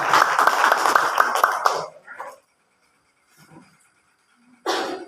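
An audience at an elementary school teachers' talk show in Majalengka gives a burst of clapping for about two seconds, then the room falls nearly silent before another short burst of sound at the end.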